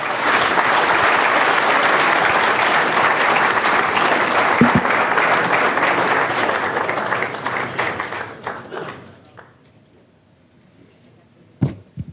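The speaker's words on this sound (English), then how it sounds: "huge round of applause, please, for Guido van der Garde and Alexander Rossi" An audience applauds loudly and steadily for about eight seconds, then the clapping thins out and fades to near silence, with one last sharp clap near the end.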